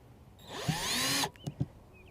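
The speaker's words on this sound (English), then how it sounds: "take the drill here" A power drill whirs briefly for under a second, winding up and down, followed by a couple of soft knocks nearby.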